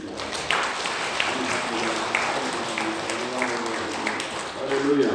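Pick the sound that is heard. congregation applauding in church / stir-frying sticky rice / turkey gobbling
congregation applauding in church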